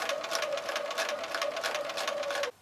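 A sewing machine stitches quilt fabric for a Friendship Star block, running in one steady, close, fast whir for about two and a half seconds before stopping abruptly.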